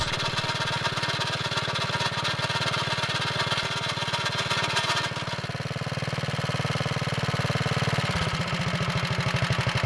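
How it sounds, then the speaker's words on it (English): A Wheel Horse Model 401 garden tractor engine runs steadily and loud with a rattling drive belt, a continuous mechanical clatter throughout that shifts to a slower, more distinct pulsing near the end. "The belt still rattles."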